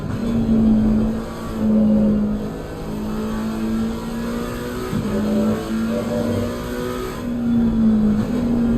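Race car engines in Assetto Corsa Competizione at the Red Bull Ring, a loud, steady high-revving drone with brief dips and rises as the cars shift gears and close in, heard alone without voices.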